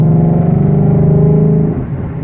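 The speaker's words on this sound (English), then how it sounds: "And I'm in 4th gear. Listen to the sound it makes and the torque." A 2015 Ford Mustang GT with a 5.0L engine accelerates in fourth gear, a loud, deep exhaust drone with a rising pitch that eases off near the end, heard close from inside the car with no talking.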